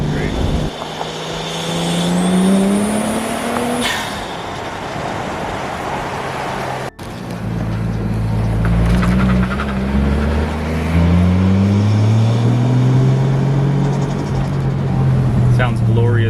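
A 1JZ engine with an HKS Racing Suction intake and HKS exhaust revs hard through rising and falling pulls from inside the moving car, loud and continuous, with a brief cut in the middle.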